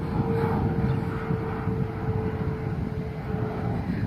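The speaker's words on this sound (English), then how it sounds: "speaking of airplanes." Airplane passing overhead outdoors: a steady, broad engine rumble with a faint tonal drone, continuous and moderately loud over wind noise, no voices.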